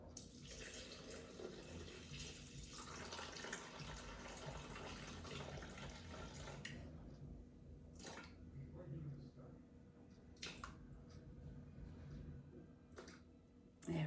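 Water is poured into a Thermomix kitchen machine in a steady splashing stream for several seconds, then gives way to quieter kitchen clinks and soft talk.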